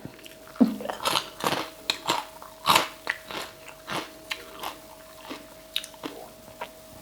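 Crunchy pork rinds are bitten and chewed up close, a steady series of loud crisp crunches and crackles with no talking.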